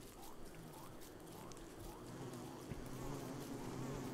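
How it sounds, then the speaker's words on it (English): Bees buzz in the video game Don't Starve Together, a faint, continuous insect drone under a soft game soundscape, with a player's voice talking over it. "There's so many bees."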